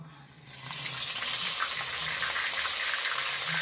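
Ginger garlic paste drops into hot peanut oil, a quiet start giving way to a loud, rushing sizzle that stays steady and close for several seconds.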